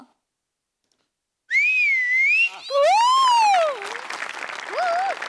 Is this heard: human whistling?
yes